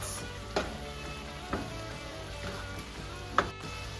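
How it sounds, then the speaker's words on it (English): Palak paneer masala sautés in a pan, a low, steady sizzle and fry broken by a few distinct scraping clicks as it is stirred. "And now we'll continue to saute, getting a lot of all these flavors combined together"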